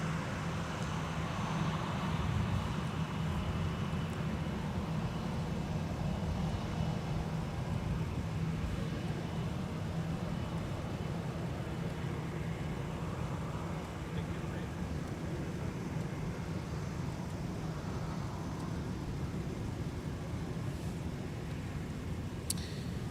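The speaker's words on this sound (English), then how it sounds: "we've got Delta headed off to Atlanta with an A321, taxiing Whiskey to 17, where it will depart" A Delta Airbus A321 taxiing toward runway 17 at Minneapolis airport gives a steady low jet rumble and hiss. It is distant and constant, with faint ambient noise and no distinct events.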